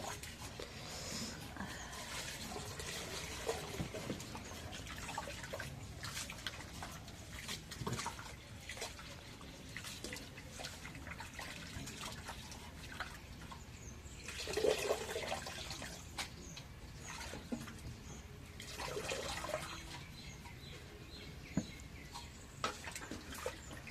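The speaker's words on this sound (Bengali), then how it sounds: "এখন এই পাতাকপিটা এখন ধুয়ে নিই।" Faint running water splashing and trickling as cabbage is rinsed under a tap, with intermittent swells of flow and handling noises, quiet throughout.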